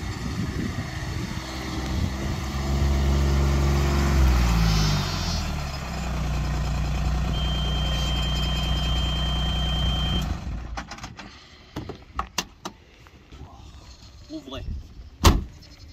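A Ranger utility vehicle on a sheep farm runs with a steady engine drone as it reverses and pulls away, then fades into scattered clunks and knocks near the end.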